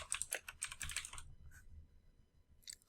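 Rapid keystrokes on a computer keyboard as a group name is typed, a close, quiet burst of clicks that stops, then a few isolated taps and a short final flurry.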